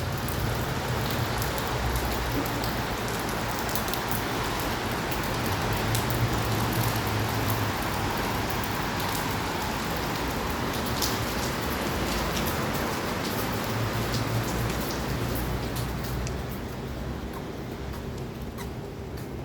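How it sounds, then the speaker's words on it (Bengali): Heavy rain pours down in a dense, steady hiss of drops pattering on surfaces, constant and loud throughout, easing a little near the end, with no voices. "যে বৃষ্টি হচ্ছে আর কি"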